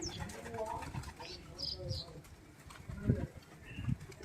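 Pigeons kept at a house coo in low, throaty bursts at close range, with a few brief chirps and light rustling between calls.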